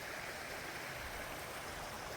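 Steady, quiet rushing water, a small stream flowing out from under brush into a river, continuous with a soft broadband hiss.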